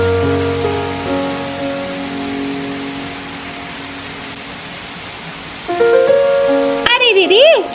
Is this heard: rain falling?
yes